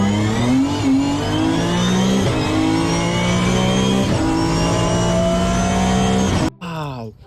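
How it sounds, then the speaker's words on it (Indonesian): A toy car steering wheel plays loud electronic engine revving sounds, with repeated rising whines that climb in pitch, before cutting out abruptly near the end. "Ini mainan setir mobil."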